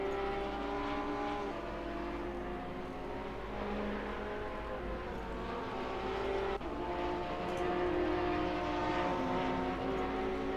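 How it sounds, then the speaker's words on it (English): An Audi GT3 race car engine in a racing video game at the Red Bull Ring drones steadily, its pitch shifting up and down through gear changes, with a second car audible at times, sounding continuous and moderately loud. "I do love the sound of the Audi."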